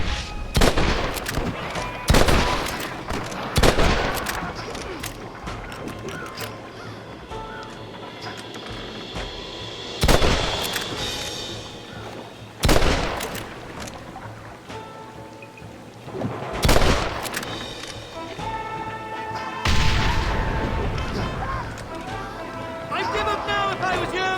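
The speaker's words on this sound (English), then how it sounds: "Watch the top of that cliff! They're shooting down on us!" Gunfire from enemies shooting down from the top of a cliff in Red Dead Redemption, New Austin, with repeated sharp shot bursts at irregular intervals over rain-like ambience and background game sound.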